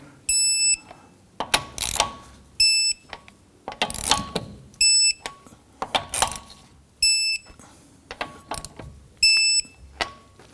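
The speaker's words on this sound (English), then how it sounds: "Torque down your lug nuts to 85 foot-pounds." Torque wrench tightening lug nuts on a 2017-2020 Hyundai Elantra after a rear wheel bearing and hub replacement: bursts of close mechanical ratcheting alternating with short, bright electronic beeps in a repeating pattern.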